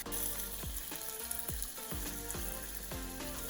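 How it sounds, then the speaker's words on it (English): Onion, tomato and paprika fry together in a pan with a steady, close sizzle, broken by a few rhythmic scrapes and stirs. "I'm frying them all together."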